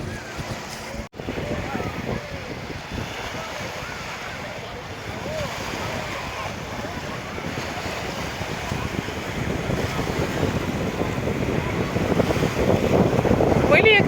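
Boat wakes wash and lap steadily at the shore of the San Juan reservoir near Madrid, a continuous churning rush that builds louder toward the end amid wind noise.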